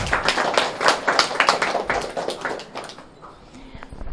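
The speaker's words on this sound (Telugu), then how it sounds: "వాళ్ళకు కూడా గట్టిగా ఒకసారి క్లాప్స్ కొట్టండి" An audience claps together in a dense burst of applause at a Sri Rama Navami inauguration gathering, loud at first then thinning out toward the end.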